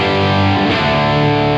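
An electric guitar chugs through heavy, saturated Mesa Boogie Mark II/Mark III-style distortion from a Wampler Golden Jubilee pedal, a thick sustained crunch that stays loud and steady throughout.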